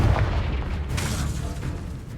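A Confringo blasting curse from Hogwarts Legacy erupts in a deep, loud boom that rolls on as a steady low rumble for a couple of seconds, with a sharper crack partway through.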